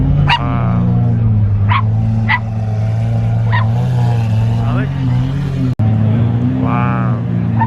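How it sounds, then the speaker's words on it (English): A Malinois dog barks several times in short sharp bursts at an exotic car meet, set against a steady low engine or crowd rumble, with people talking nearby. "What kind of dog is it? Malinois."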